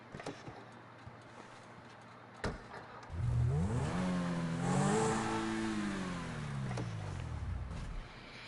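After a short click, a car engine in the GTA video game fires up and revs hard, rising to a loud roar, then easing off into a long, falling drone. No talk is heard over it.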